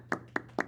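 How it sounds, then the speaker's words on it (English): Three sharp hand claps spaced evenly apart, close and distinct, on a podcast recorded at a skate shop, each a crisp single slap with quiet room tone between. "Everybody give her a round of applause."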